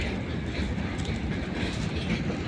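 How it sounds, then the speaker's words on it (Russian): Freight train rolling through Chapaevskaya station in Russia, a loud continuous rumble with rhythmic wheel clatter on the rails as the wagons pass close by. "Опять товарняк."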